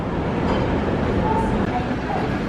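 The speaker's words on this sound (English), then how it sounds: "we have to get on this little transit train that takes us underground, under the runway, over to the other side" A small underground airport transit train running beneath the runway rumbles continuously, with steady track noise and a cabin hum close by while a voice talks over it.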